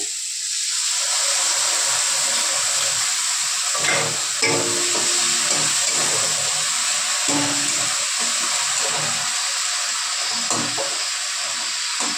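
Ginger, garlic and green chili paste hits a hot pan for an aar fish curry, a loud, steady hissing sizzle that carries on evenly, with occasional small crackles.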